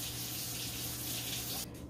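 Hot water mixed with chicken bouillon is poured into a soup pot, a steady splashing pour that runs continuously before cutting off abruptly near the end.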